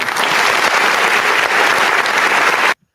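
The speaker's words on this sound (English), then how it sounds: "You want to break my applause button?" A canned applause sound effect triggered from a button: a dense burst of clapping that holds steady for under three seconds, then cuts off abruptly into silence.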